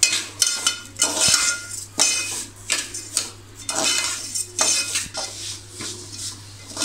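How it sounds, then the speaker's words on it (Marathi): Semolina roasting in ghee for lapsi while a spoon stirs it, giving repeated close scraping and clinking strokes against the pan at an uneven rhythm, with no voices. "लालसर रंग होईपर्यंत आपल्याला ती भाजून घ्यायची आहे."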